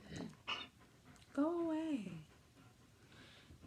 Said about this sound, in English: You might hear him whining in the background because he's just that spoiled.